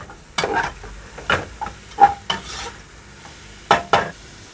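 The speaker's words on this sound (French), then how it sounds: "On va faire rissoler nos petits lardons" Small lardons browning in a pan for a traditional poulet chasseur, heard as a soft background sizzle broken by several sharp utensil scrapes and knocks against the pan.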